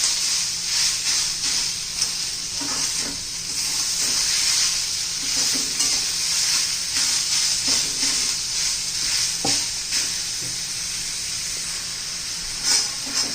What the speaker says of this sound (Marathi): आता चांगलं 2-1 मिनिटं टोमॅटो मऊ होईपर्यंत आपण हा सर्व मसाला परतून घ्यायचा आहे.